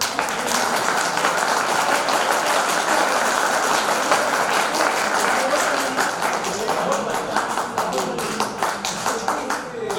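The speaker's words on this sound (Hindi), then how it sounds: "अब आप लोग एक ताली बजाइए" A live audience at an alumni meet claps hands together in sustained, dense applause throughout, loud and close with a steady rattling texture.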